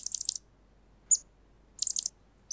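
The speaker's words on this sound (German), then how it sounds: "Wo kommt denn das Vögelchen her?" Small cartoon bird chirping in three quick bursts of high, bright tweets, with short pauses between, close and clear against a quiet background.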